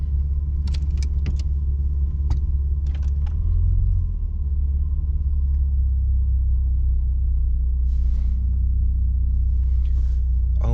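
A Mitsubishi Magna engine idles and rumbles steadily up close while the car backs out, with a brief rise in revs and a few light jangling clicks.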